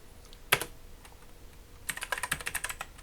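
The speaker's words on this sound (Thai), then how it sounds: "ผมเขียนโมฮิโตแล้วกันนะฮะแจม" Typing on a computer keyboard: one sharp keystroke, a pause, then a quick burst of clicking keys, close and fairly quiet with no talking.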